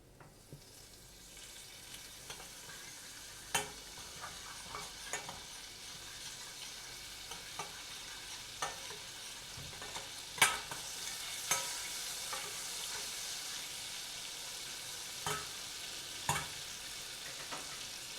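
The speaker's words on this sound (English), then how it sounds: "if you fry it like this, it will get a whole other flavor" Butter sizzles and crackles softly in a frying pan, with scattered pops and occasional stirring scrapes, fairly quiet and close.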